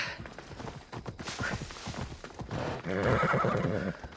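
A horse in Assassin's Creed Odyssey whinnies loudly over clip-clopping hooves, followed by a second, longer neigh near the end.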